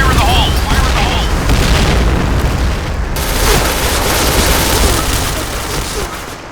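Heavy booming blasts and rumbling gunfire fill a first-person shooter match on the Sandstorm map, with a grenade explosion rolling loud and continuous through the battle noise.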